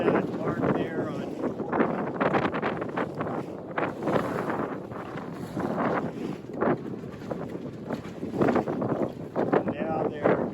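Wind roars steadily across the microphone while sailing a Buccaneer 18 sailboat out to watch races, a dense gusty rush with no break across the whole stretch.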